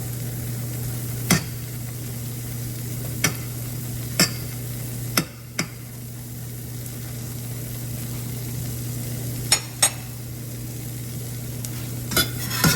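A pancake cooking in butter on its second side, a soft continuous sizzle with a steady low hum beneath and occasional sharp clicks of a utensil against the pan.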